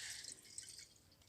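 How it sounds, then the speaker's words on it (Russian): Birch sap dripping drop by drop into a collecting jar outdoors in April, a soft, close, steady patter of small drips heard alone with no talk. "Вон, как он собирается, по капельке. Видишь, капает."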